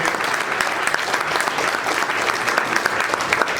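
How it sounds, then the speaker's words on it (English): An audience at a full office meeting applauds, with dense, steady clapping from many hands that carries on without a break for several seconds. "everybody give them a big round of applause"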